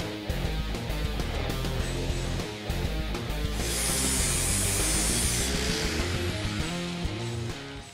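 An English wheel rolling a sheet metal fender flare, producing a continuous grinding, rumbling roll with a brief hissing swell midway, close and steady, with no voices.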